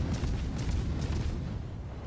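Heavy naval gunfire in World of Warships, with several ships firing on a Bismarck battleship, comes across as a continuous low rumble of deep booms that rolls on without pause through the whole stretch.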